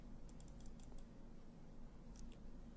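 Typing on a computer keyboard for a PowerPoint tutorial, with two short bursts of faint, quick key taps over a steady low background hum.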